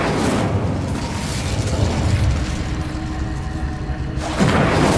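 An Incendio fire spell is cast in Hogwarts Legacy, a loud, sustained whooshing roar of flame that fills the clip, with a fresh burst flaring near the end.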